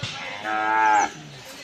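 A single loud, drawn-out cow moo, close by, lasting about a second against faint background chatter and noise at a cattle market.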